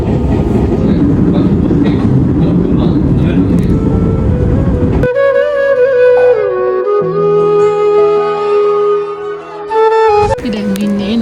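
Ride on the Ninja Train, a small train near Nara Station in Japan, loud rumbling rail noise for the first half, then the sound changes to steady tonal hums and whines, with voices in the background.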